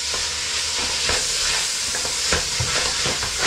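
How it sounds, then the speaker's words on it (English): Minced beef for chilli con carne sizzles loudly in a hot pan while a utensil stirs and breaks it up, with irregular scraping knocks over the constant frying hiss. "keep it stirring around, there we go."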